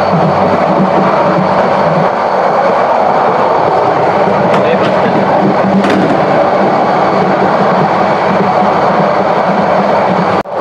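Inside the Subarna Express, a non-stop passenger train from Chattogram to Dhaka: a loud, continuous rumble and rattle of the moving carriage fills the scene, with a couple of sharp clanks partway through.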